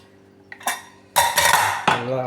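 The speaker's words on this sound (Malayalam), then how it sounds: "കുക്കറിലെ ഗ്യാസൊക്കെ വേണ്ടത് നമുക്ക് തുറന്ന് നോക്കാം." Pressure cooker of coconut rice being opened: close metallic clinks and clatter of pot and lid in a few sharp bursts, ringing briefly over a quiet background.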